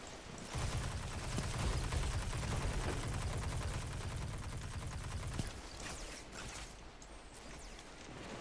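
Rapid automatic gunfire in the video game Destiny 2, a fast mechanical rattle of shots for several seconds, then sparser clicks and scattered pops as it tapers off.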